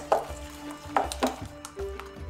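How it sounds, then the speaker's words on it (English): Pancake muffin batter being whisked in a bowl, a few soft, irregular taps and scrapes of the whisk against the sides, quiet and close, spaced roughly every half second with low clatter between. "Get these nice and combined. Whisk, whisk, whisk, whisk, whisk,"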